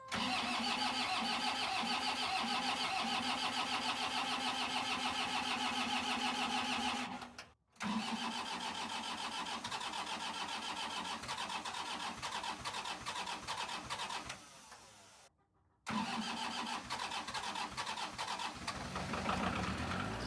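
An engine cranks and fires up in below-freezing weather, starting sluggishly, then running steadily for about twenty seconds, with two brief silent gaps partway through.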